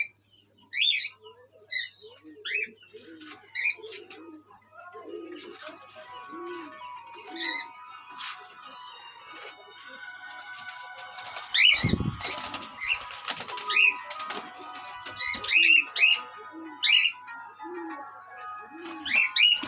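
Birds and pigeons in a farm enclosure flutter and flap their wings close by, with repeated cooing and scattered chirps and tweets, and a burst of loud wing beats about two-thirds through.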